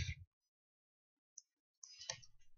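A few sparse keyboard clicks and a short burst of typing on a computer keyboard, close and crisp with silent gaps between presses.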